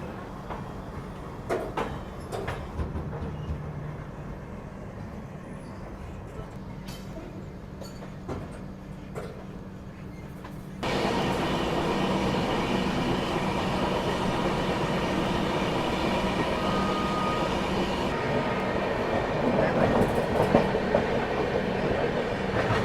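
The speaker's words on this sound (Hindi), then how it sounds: "और उस तरफ किसी ट्रेन का शंटिंग जो है वो हो रहा है" A train shunting slowly at a busy Indian railway junction, heard from a passing train: steady rumbling rail noise that grows louder and denser halfway through, with intermittent clacks and clanks and no talk.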